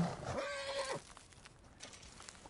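A horse in a PS5 video game lets out one clear, high whinny near the start. Faint game ambience and soft thuds follow.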